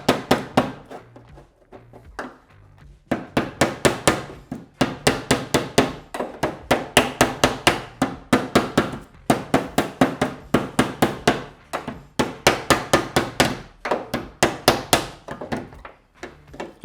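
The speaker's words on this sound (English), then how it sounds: "we get the aluminium on the inside this time, wherever that high spot is, so we can just feel it with our hands, and then we can just come in with our hammer" A hammer taps repeatedly on the aluminium body panel of a classic Mini 1275GT race car to work out a dent, producing sharp, close, ringing metallic strikes in quick rhythmic bursts separated by short pauses.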